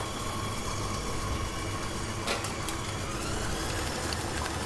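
Electric mixer beating an egg into almond chocolate flourless cake batter, a steady loud continuous whirring drone with no pauses, close to the bowl.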